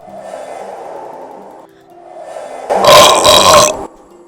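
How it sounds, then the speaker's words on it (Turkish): A loud, harsh burp from a character in the game My Child Lebensborn Remastered, a single sustained belch of about a second, standing out against quieter ambient background sound. "Geğirdim."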